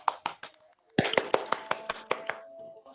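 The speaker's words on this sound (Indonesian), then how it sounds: "Beri tepuk tangan kepada anak Ibu yang menjawab dengan benar" Children in a classroom applaud in a patterned rhythm, with a few quick claps, a short pause, then a longer run of evenly spaced claps, while voices faintly chant along.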